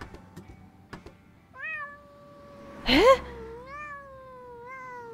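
Kitten in the video game Randal's Monday gives several clear, rising and falling meows, one louder squeal in the middle, with a brief spoken interjection and soft game ambience around them.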